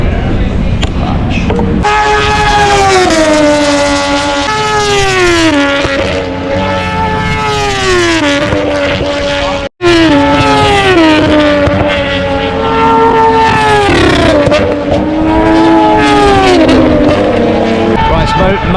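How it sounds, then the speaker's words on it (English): Moto2 racing motorcycles with 3-cylinder 795cc Triumph engines scream past during practice at Phillip Island, loud high revving engines rising and falling through gear changes as several bikes pass close by, one after another. "Moto 2 practice at the moment, so these bikes are a 3-cylinder Triumph engine, 795cc"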